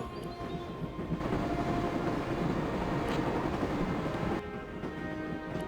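Steady rumbling train interior ambience from the video game Broken Sword: Shadow of the Templars, a continuous low roar with faint rattling that drops away toward the end.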